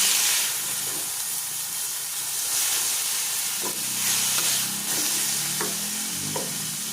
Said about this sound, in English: onion, and garlic. Now I'm gonna add those. I'm gonna saute these.